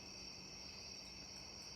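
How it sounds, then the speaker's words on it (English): Crickets chirp outdoors in a continuous, faint, high-pitched trill, steady and unbroken, with no talking over it. "You hear all the crickets, and I love the outside sounds"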